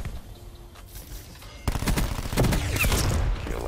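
Gunfire sounds in the video game Black Ops 4, starting as quieter distant shots and then breaking into a loud, dense stretch of rapid automatic fire, with no talk over it.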